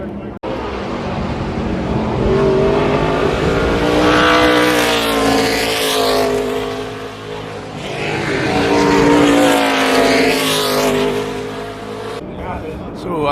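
Historic sports cars race past at Road Atlanta, engines roaring loud and near in two long passes that rise and fade, with a voice speaking over the noise.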